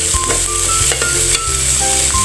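Tomatoes softening in a hot pan for squid adobo, a loud continuous sizzle with bright hiss and occasional stirring clicks, close and alone.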